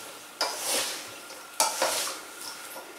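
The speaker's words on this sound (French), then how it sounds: "bien mélanger, que le sel soit absolument" Salted zucchini is stirred by hand for a curry chutney, giving two short, soft scraping and rustling strokes followed by a faint, quieter shuffle, with no voices.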